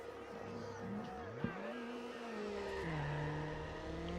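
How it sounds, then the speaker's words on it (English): Peugeot 206, a front-wheel-drive rally-style car, drifting in the racing game Need for Speed Underground: a steady engine drone with pitch sweeps as revs rise and fall, a sharp thump near the middle, and continuous tire noise throughout. "you can't not drift in your front-wheel drive wannabe rally spec Peugeot 206"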